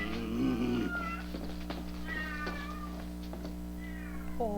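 A cat in the video game Vampire Therapist meows several times, drawn-out, wavering cries spaced a second or two apart, with a steady low hum running underneath.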